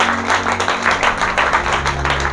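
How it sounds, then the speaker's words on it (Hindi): A congregation claps together at a church healing and deliverance service in Haryana, a dense, steady wash of many hands that lasts throughout over a low electrical hum. "मिल के ताली बजा प्रभु"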